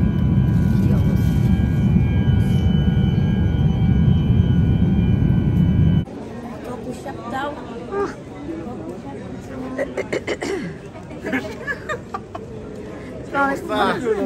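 On a London to Dubai flight, loud, steady airplane cabin drone fills the first few seconds during landing, then cuts abruptly to quieter surroundings with people talking and chattering.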